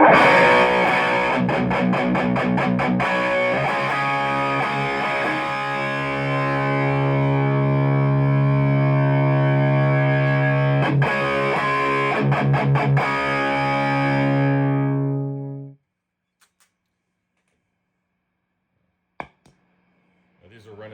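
Heavily distorted, high-gain electric guitar through a Mesa/Boogie Mark V amp in lead mode at the 10-watt setting, sustained loud chords and riffs ringing for about fifteen seconds before cutting to near silence with a few faint clicks.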